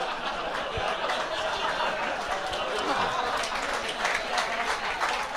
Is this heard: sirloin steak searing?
no